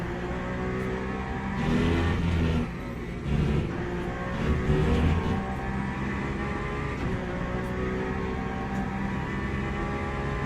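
An Aston Martin Valkyrie race car in Le Mans Ultimate, its engine droning steadily with a few swells in pitch and load, a continuous close-up hum running throughout.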